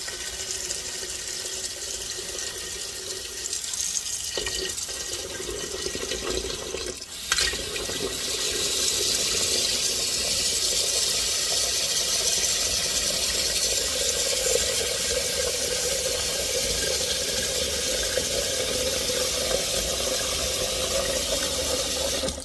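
Water runs steadily from a tap into a sink while cooking black-eyed peas, a constant rushing that grows fuller after a short pause and stays even.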